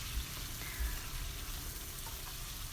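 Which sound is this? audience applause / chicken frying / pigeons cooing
chicken frying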